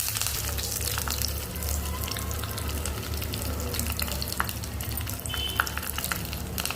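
Continuous loud sizzling and crackling of tempering spices frying in a tablespoon of hot oil for a koya amaranth-leaf curry, with occasional sharper pops and a faint clatter of stirring.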